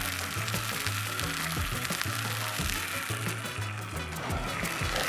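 Steak sizzles loudly in a hot skillet at a campsite, a dense continuous frying hiss close up, with faint low scraping or movement underneath.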